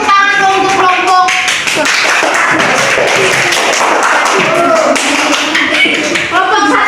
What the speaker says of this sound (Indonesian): Tepuk tangan untuk kelompok.